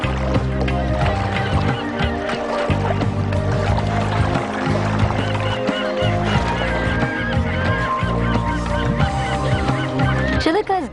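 Greylag geese honk across Chilika lake, a wetland teeming with birds, with a steady chorus of loud overlapping calls against constant background noise and a low murmur of voices.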